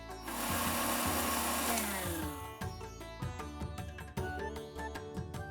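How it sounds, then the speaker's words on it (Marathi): Electric kitchen grinder whirring loudly as it pulverises whole spices, black peppercorns and coriander seeds among them, into fine masala powder, a steady motor roar that then breaks into choppy, uneven pulses. "हा सगळा मसाला आता आपल्याला अगदी बारीक वाटून घ्यायचा आहे."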